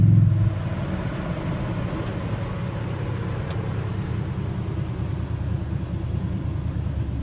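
An old, cheap Chevrolet El Camino in need of restoration cruises along with a low, steady engine rumble and road noise heard from inside the cab, even and moderately loud after a brief louder start.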